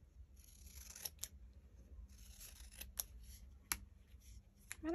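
Scissors cutting sticker paper in a quiet room, a series of faint, crisp snips at uneven intervals, close and alone with no talking.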